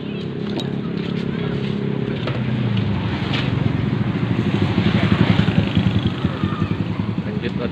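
A Kawasaki Ninja motorcycle rides along, its engine buzzing steadily and growing rougher and louder as it speeds up, with wind rush over it.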